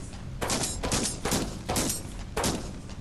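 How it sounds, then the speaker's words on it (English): Laser rifle fire in the sci-fi game Genesis Alpha One: five loud, bright bursts spaced roughly half a second apart, each a harsh crackling blast with a brief tail, with no other sound between. "Laser rifles can be more accurate for this. Burn that away."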